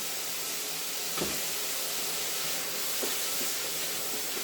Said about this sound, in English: Let's see to this beef now. It's frying up nicely.